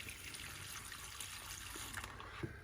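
Water trickles and pours steadily into an ultrasonic cleaner tank holding model locomotive parts in a Simple Green and water mix, a close, continuous splashing stream with no talking.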